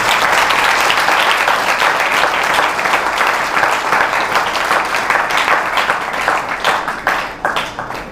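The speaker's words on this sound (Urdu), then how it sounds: "زوردار تالیاں بجائیں" Loud, sustained applause from a large crowd, dense clapping that continues steadily before thinning slightly near the end.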